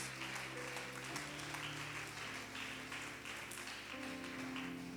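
Steady applause from a church congregation, a dense continuous patter of clapping with music or a sustained tone underneath, fairly faint and distant.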